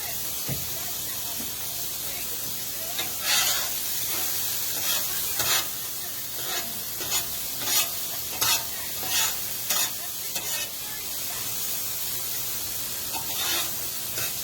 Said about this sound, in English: Hey Jeff, I'm cooking up some steak and mushrooms and onions, bro